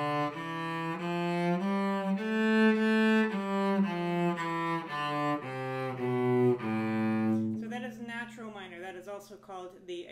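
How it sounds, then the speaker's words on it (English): A cello plays a one-octave A natural minor scale, bowed note by note in an even, steady rhythm, close and clear, then a few trailing bowed sounds at the end. "And if we start and end on A, it becomes a natural minor"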